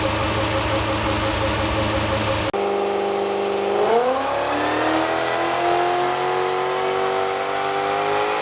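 A supercharged L98 V8 in a VE Commodore SS held on a dyno, its engine note climbing steadily through a loud power run after a steady high-revving drone and a sudden drop.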